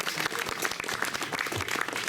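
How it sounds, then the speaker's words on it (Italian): Applause for a young poet at a Sardinian poetry event, a continuous wash of clapping from a modest crowd, steady and moderately loud across the short stretch. "Un applauso a Isangela."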